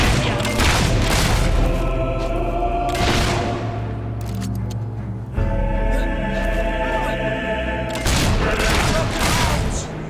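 A rocket's mounted gun fires in a video game, with several heavy booming bursts and a sustained roar between them, loud and dense, and a voice speaking faintly at times.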